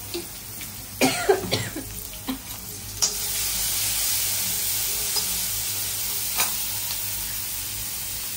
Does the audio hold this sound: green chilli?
yes